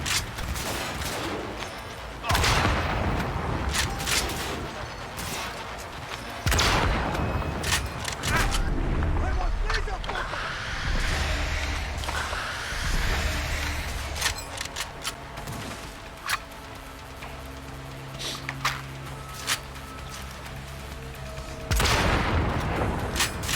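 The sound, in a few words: rifle gunfire in the video game Cyberpunk 2077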